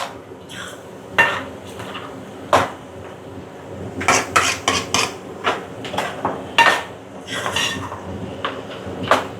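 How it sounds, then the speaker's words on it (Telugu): Tomato-cashew paste frying in a mutton curry, stirred hard with a metal spoon that clanks and scrapes against the pot in sharp, irregular knocks, some in quick clusters, loud and close. "టమాటా జీడిపప్పు పేస్ట్ ఉంది కదా అది కూడా వేసేది వేసి కొంచెం ఇలాగా దీంతో పాటు మళ్ళీ ఫ్రై అవ్వాలి"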